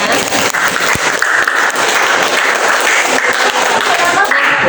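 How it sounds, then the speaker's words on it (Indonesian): Steady applause from a room full of people, dense clapping that continues evenly throughout without a break. "Semuanya sudah baik, tepuk tangan untuk kita semuanya."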